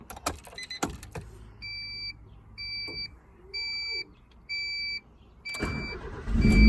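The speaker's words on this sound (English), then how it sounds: "Let's start the car." Honda CRX fitted with a push start button: a series of clicks and evenly spaced electronic beeps, then the engine cranks and catches with a rising rumble at the end, close and clear.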